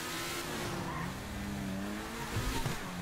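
A car engine revving and droning in the video game GTA 5, with shifting pitch and a brief louder surge near the end, steady and fairly close.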